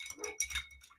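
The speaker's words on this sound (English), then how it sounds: "my neighbor's German Shepherd's timing is impeccable" A German Shepherd next door lets out a few quick, muffled barks and whimpers, faint and distant, in about a second of otherwise quiet room sound.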